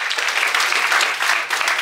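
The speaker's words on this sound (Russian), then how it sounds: "Ваши аплодисменты." A television studio audience breaks into applause for a guest on a talk show, a brief, loud, dense wash of clapping that stays steady throughout.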